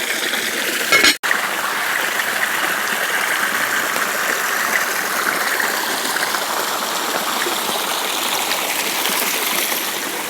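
Food in a pot boils hard over an open bush fire, giving a loud, steady rushing and bubbling wash throughout, broken by one brief dropout near the start.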